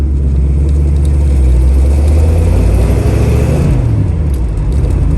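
A 1967 Chevrolet Camaro's 396 big block V8 rumbles loudly and continuously while driving, a deep throbbing roar with a slight pitch shift as it pulls, no voices over it.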